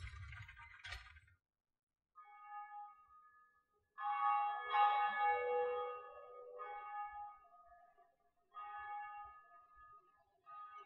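A bell rings in the video game Dark Souls Remastered, several metallic tolls with ringing overtones and decaying tails separated by quiet gaps, preceded by a brief clatter, no talk.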